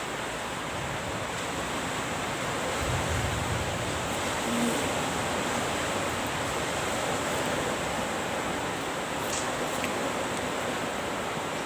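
Steady wash of sea waves on a Thai shore, a constant broadband roar with little variation, moderately loud and heard alone.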